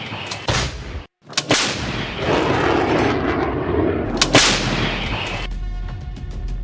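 Heavy booming artillery blasts in the Russia–Ukraine war, several in succession, with sharp cracks and a rumbling roar between them, loud and distant-sounding.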